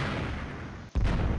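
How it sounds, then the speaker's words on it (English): An explosion sound effect from 3D Movie Maker: a dense, loud roaring blast that cuts out for a split second, then bursts back in just as strong. "We need an explosion."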